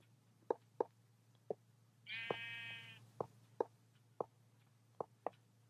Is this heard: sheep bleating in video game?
yes